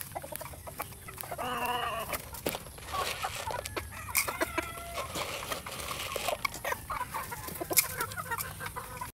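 Chickens cluck and rooster-type calls sound through a backyard coop, several birds at moderate distance with repeated short clucks and squawks over steady farmyard background.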